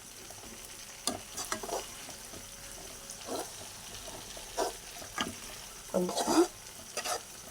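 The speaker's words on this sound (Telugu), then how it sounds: "ఇది అల్లం పేస్ట్ని అలా ఎర్రగా వచ్చేటట్టుగా పచ్చి వాసన పోయేటట్టుగా వేయించుకోవాలి" Ginger paste sizzles in hot oil in a pan for mutton pickle, a steady low fry broken by louder bursts of stirring and scraping. A voice speaks briefly over the cooking.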